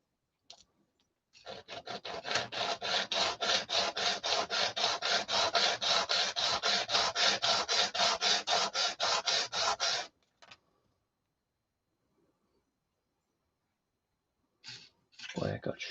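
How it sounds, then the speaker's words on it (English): Hand sanding with sandpaper, a steady rhythmic rasping of quick back-and-forth strokes for about nine seconds, close and clear, with a brief second burst near the end. "use sandpaper"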